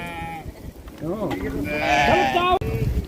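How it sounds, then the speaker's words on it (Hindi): A flock of sheep in a high mountain meadow on the trail to Kedarnath bleats repeatedly at close range, several overlapping calls rising and falling, with no one talking over them. "जब भी इनको आदमी दिखते हैं तो ये आदमी की तरफ आने लग जाते हैं और आवाज़ करने लग जाते हैं"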